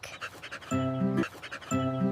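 A dog pants in quick, breathy bursts, close by, with short rhythmic gasps and a couple of higher whining tones mixed in.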